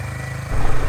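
A Bajaj Pulsar N250 motorcycle engine runs close by with a low rumble that swells louder halfway through as the bike pulls away.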